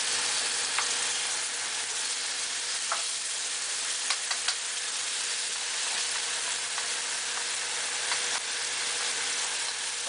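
Garlic and shallots fry in a pan with a steady, soft sizzle, sprinkled with occasional small pops and crackles throughout.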